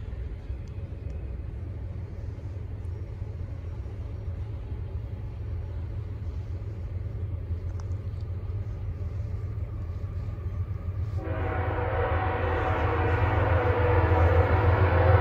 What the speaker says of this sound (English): This is CSX train M410 on its way out of Waycross, Georgia, bound for Selkirk, New York